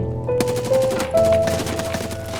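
Rapid automatic gunfire bursts loudly in Escape from Tarkov, a tight rattling string of shots over a couple of seconds with no speech.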